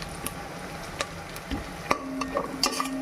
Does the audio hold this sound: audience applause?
no